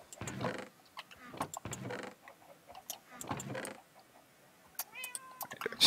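Cats meowing inside a survival crafting video game, several short mews scattered across the scene at moderate loudness, with quiet gaps and a few clicking game sounds between them.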